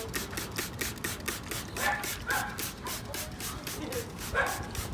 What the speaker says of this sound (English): You hear that noise in the background? That's my dog